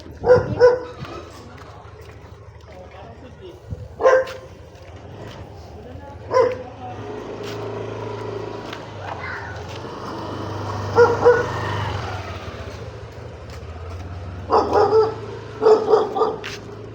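A dog barking in short bursts of a few sharp barks at a time, spaced out and moderately close, with people talking in between outdoors.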